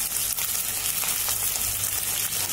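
Green chilies and capsicum sauté in hot oil for a tomato fish curry, giving a steady, close, broadband frying hiss with faint crackles throughout and no voices.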